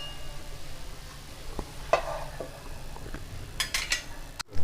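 Pasta masala being stirred in a pan with a utensil, soft scraping and occasional light clinks of metal against the pan over a faint sizzle, close and fairly quiet, no voices.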